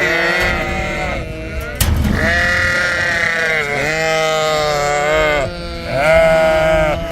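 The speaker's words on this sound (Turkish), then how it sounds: "bu sefer de kuzuları bırakıyorlar. Bunlar o yüzden bağırıp duruyor." Lambs bleat loudly and repeatedly nearby, several overlapping wavering cries one after another, with faint background noise.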